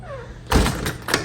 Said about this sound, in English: we have to move it out a little bit and remove it, and the door opens.